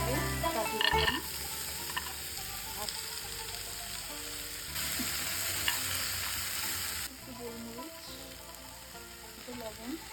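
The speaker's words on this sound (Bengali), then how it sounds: "রকমের ক্যাপসিকাম আর টমেটোটা একটু ভেজে নেব।" Capsicum and tomato frying in a pan after chicken and cashews, with steady sizzling, scraping stirs and clinks running throughout.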